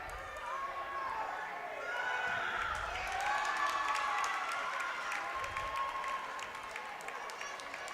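Gym crowd clapping and cheering after a middle school wrestler's pin at a wrestling meet, steady applause throughout with an announcer talking over it.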